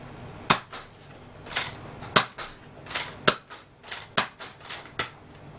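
A Nerf Fortnite toy blaster fires a rapid series of sharp, snappy cracks, about a dozen uneven shots in quick succession, close and fairly loud with short quiet gaps between them.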